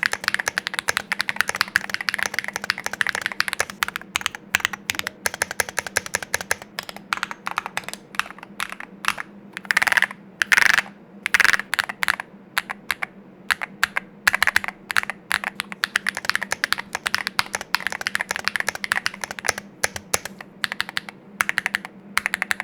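Rapid, loud clacky keystrokes rattle on a Chilkey Slice68 HE keyboard fitted with WS custom clacky switches, bursts of fast typing with brief pauses and occasional heavier thocks, close and dry.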